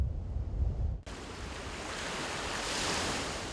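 Ocean waves washing onto the sandy beach of a seaside village in Palanan on northeastern Luzon, a steady broad surf roar with wind after an abrupt cut from a quieter moment.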